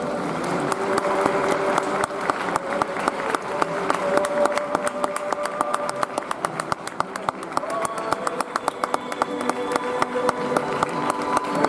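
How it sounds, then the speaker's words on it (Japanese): An audience at a footballer's retirement ceremony applauds a presenter with a steady stream of crisp hand claps, while voices and tones carry on underneath. "どうか拍手をお願いいたします。"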